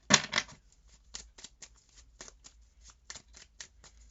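Tarot deck being shuffled and cards drawn, a close riffling burst at the start followed by a run of quick separate card flicks and snaps.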